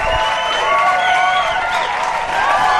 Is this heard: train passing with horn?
no